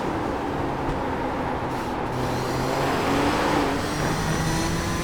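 Vintage race car engines in iRacing's IMSA Vintage Series at Silverstone Historic drone loudly and continuously, one engine rising in pitch as it accelerates while other cars rumble nearby, with no talking.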